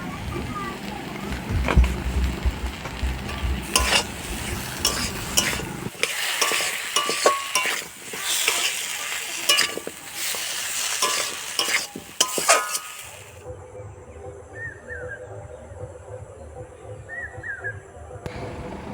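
Baital fruit sizzles and hisses in a pan while it is stirred and fried, with loud spatula scrapes and clatter near the mic, and the frying quietens to a softer steady sizzle toward the end.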